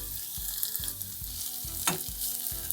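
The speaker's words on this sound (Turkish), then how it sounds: "Salça kavrulana kadar bu şekilde pişiriyorum." Tomato paste frying in a pan gives a constant close sizzle, with soft rhythmic stirring thumps and one brief scrape partway through.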